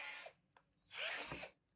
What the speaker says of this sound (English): So what we can do now to enlarge this to 8mm is to drill it.